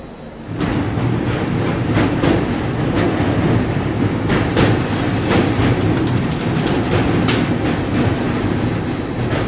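A passenger express train hauled by an electric locomotive runs on the rails, heard from inside as a loud, constant roar and rumble with repeated clicks and clacks from the wheels.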